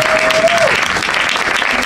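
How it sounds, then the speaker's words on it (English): Audience applause fills a room at a media talk in Ghana, a steady dense wash of clapping lasting under two seconds, with a brief voice tone fading at the start. "Do I get an applause?"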